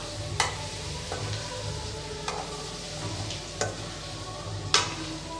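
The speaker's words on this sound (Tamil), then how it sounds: "லேசாக இந்த மாதிரி நல்லா கிண்டி விடலாம்" Egg masala frying in a pan on medium flame, a steady sizzle with occasional sharp clinks and scrapes of a spoon stirring gently, no voices.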